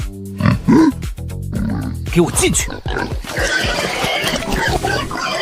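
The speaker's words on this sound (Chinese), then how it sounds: "隔壁家母猪跑出圈了" A sow in an animated fantasy series squeals and grunts after escaping its pen, loud and close, mixed in with people talking over it.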